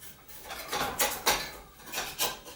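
A knife run around the edge of a skillet holding a rhubarb upside-down cake, giving a few soft metallic scrapes and clinks that swell and fade in short strokes, close and fairly quiet, with no talking.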